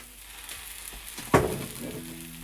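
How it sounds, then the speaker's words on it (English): Aubergine and onions frying in oil in a pan, a steady low sizzle with a sharp burst of spitting as food hits or is stirred, then settling back to a constant crackle. "you want to get a nice colour on the aubergine, and you want to give the onions a wee flash"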